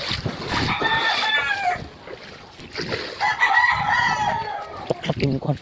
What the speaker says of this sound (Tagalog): Check tayo sa manok.